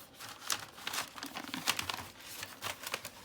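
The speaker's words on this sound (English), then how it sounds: "I'm gonna slide it in like we did all the other ones" Paper junk mail envelope crinkling and rustling as it is slid into place, a close, continuous papery rustle with small crackles and no talking.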